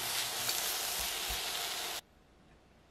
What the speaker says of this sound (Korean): 불을 끄고 남은 잔열에서 당근을 뒤적여 주시고요